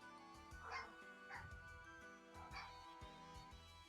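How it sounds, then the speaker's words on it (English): Several dogs bark and yip excitedly in a rapid, overlapping burst that carries on throughout, with some whimpering mixed in. The barking sounds moderately close, and no speech is heard. "Y'all stop. Dogs are going crazy."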